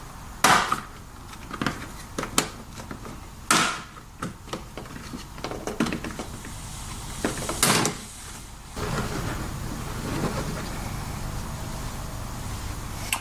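Plastic door sill trim on a BMW 135i being pried loose, clips releasing in sharp snaps and cracks spaced irregularly, with rustling and handling noise between pops, close and fairly loud.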